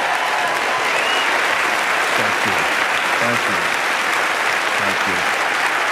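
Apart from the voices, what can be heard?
audience applause for three airmen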